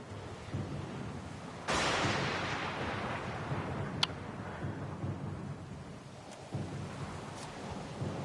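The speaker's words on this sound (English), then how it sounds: "The storm's pretty loud." Stormy weather in the video game Pillars of Eternity: Deadfire, with a steady roar of wind and rain and a loud thunder crack partway through, followed by further rumbling and a few sharp distant crackles.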